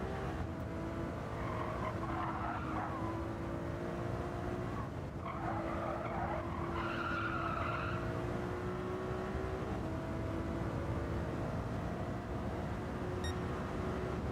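Racing cars in Gran Turismo 7, with a Ferrari running between Porsches: a steady, droning engine note runs throughout, with tyre squeals and other cars close by passing through corners.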